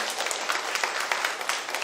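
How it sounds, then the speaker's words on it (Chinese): A church congregation at a Taiwanese-language Presbyterian installation service for new elders and deacons applauds, a dense, steady patter of many hands clapping at moderate distance throughout. "咱搁再一摆拍拍给因鼓掌吼"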